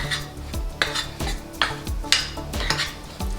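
A spoon stirs fine chiroti semolina and maida flour together in a bowl, giving a regular series of about seven close scrapes and soft knocks, each a short burst, with no talk.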